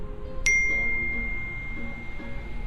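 A phone's text message alert rings out as one bright ding that hangs and fades slowly over a quiet, low background hum.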